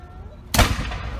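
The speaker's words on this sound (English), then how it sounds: "There it is, the cannon." A cannon fires once with a sudden heavy boom halfway through, followed by a rumbling decay that fills the rest of the short clip.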